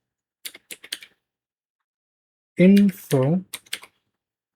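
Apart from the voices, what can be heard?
typing a search into a computer browser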